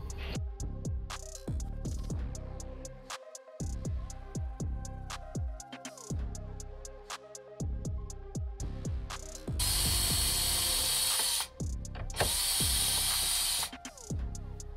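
A hand ratchet backs out 10 mm bolts from a Toyota Tacoma dash panel, giving rapid clicking runs close up, joined later by two longer loud hissing bursts.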